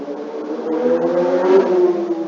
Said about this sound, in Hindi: ओहो, क्या आवाज निकालते हैं बाइक।